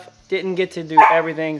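A dog barks and yips repeatedly in short bursts, close and loud, overlapping a person talking in a shed being converted into a house.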